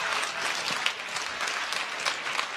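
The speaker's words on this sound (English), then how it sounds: "Give yourselves a round of applause for coming out here tonight." A crowd at the 2018 Startup World Cup Finland event claps steadily in dense, even applause that fills the room at a moderate level for the whole span.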